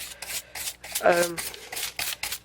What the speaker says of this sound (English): the surface a little bit with this badly needing replacing sanding sponge